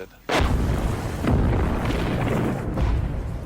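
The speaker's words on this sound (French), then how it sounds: "Et soudain, il y eut une explosion." A sudden deep boom of a volcanic explosion bursts in after a brief quiet, followed by a sustained, heavy rumbling roar with a second surge partway through.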